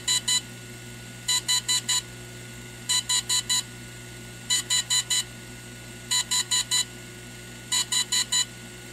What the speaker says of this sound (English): When it's doing those four beeps like that, that means it's actually doing the upgrade right now.